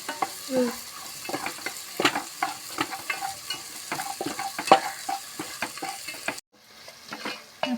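A spice mixture fries and gets stirred in a pan while a beef varattu is made in a restaurant kitchen, with steady sizzling and repeated scraping strokes of the spoon, close and continuous, quieting near the end.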